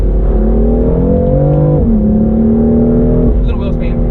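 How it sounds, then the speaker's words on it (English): A BMW F82 M4 accelerates hard with a little wheel spin, its engine droning loud and close from inside the cabin, the pitch climbing, dipping at a gear change, then climbing again. "Little wheel spin."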